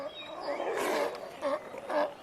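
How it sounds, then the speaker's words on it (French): A sea lion colony resting on a beach grunts and groans in the distance, with several low, rough calls rising and falling in short bursts over faint background noise. "Et tu entends ces grognements au loin ? C'est la colonie de lions de mer qui fait la sieste sur la plage."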